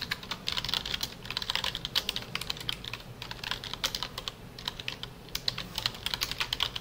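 Computer keyboard keys are pressed in quick, irregular bursts of sharp clicks with short pauses between runs. The typing is close and fairly faint, with no talking.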